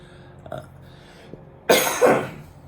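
A single harsh, raspy smoker's cough breaks out in two rough bursts after a quiet moment, close and loud.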